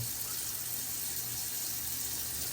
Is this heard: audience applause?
no